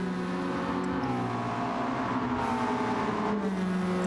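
A McLaren race car in a racing video game at Goodwood, its engine droning and revving continuously at moderate distance amid other cars, a steady layered motor roar throughout.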